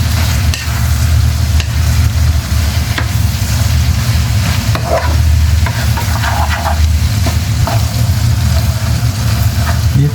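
Meat stir-frying for Bisaya-style paklay, seasoned with fine pepper, crackles in a hot pan as a loud, continuous sizzle, with scraping stirs and occasional pops running through the whole stretch.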